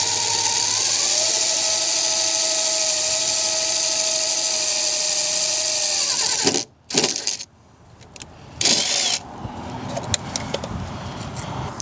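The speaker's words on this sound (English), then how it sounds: "I have one more rivet I got to drill out right here" A power drill whines steadily for several seconds at close range while drilling out a rivet on an AK build kit, then stops; brief bursts of clattering and handling noise follow.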